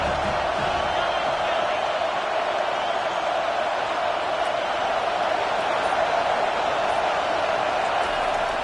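Football stadium crowd roaring steadily through a game, a dense continuous wash of cheering and noise with no clear breaks, heard from within the stands.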